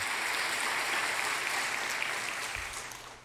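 Congregation clapping in a church service, a steady dense wash of applause that holds evenly and then begins to fade toward the end.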